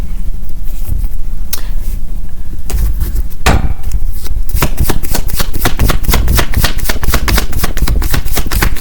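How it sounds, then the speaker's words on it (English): Tarot cards being shuffled by hand, close and loud, with scattered riffles at first building into a rapid run of crisp rhythmic card snaps. "I'm going to pull some clarifying cards."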